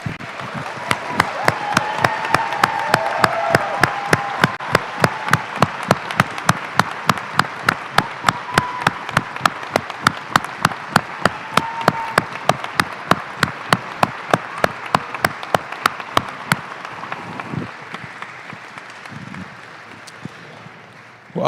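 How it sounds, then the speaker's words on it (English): Audience at a naturalization ceremony for new American citizens applauds steadily, dense clapping sustained for about seventeen seconds before thinning out and fading, with no talk over it. "please stand and give a round of applause to our new American citizens"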